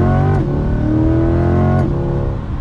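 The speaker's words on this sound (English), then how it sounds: "one last acceleration. We get into second gear at" A 2022 Chevrolet Corvette Stingray C8 2LT Z51 accelerating hard, its engine note climbing steeply, dropping at a gear shift, then rising again in a loud, close, continuous pull.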